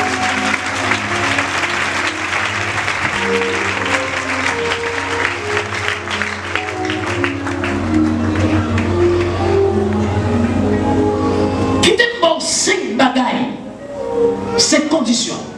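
A church congregation applauds during a healing-week service, a loud sustained wash of clapping with a strong tonal hum of music or voices beneath it, and shouts breaking through toward the end.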